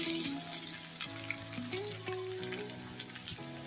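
Soft, steady sizzle of two spoons of oil frying a tempering in a pan for tamarind-leaf dal, fairly quiet and continuous, with faint hum in the background.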